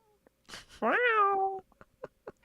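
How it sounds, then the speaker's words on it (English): A house cat lets out a loud, drawn-out meow that rises and then sags in pitch, framed by a few short, faint mouth sounds and rustles before and after. "your cat screaming. She never stops."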